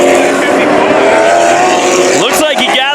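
Late model race cars at Havasu 95 Speedway, engines roaring loud and close in a steady high drone, with pitch-sweeping passes near the end while an announcer talks over it.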